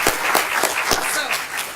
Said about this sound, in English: I'd like us all to give them a nice big round of applause.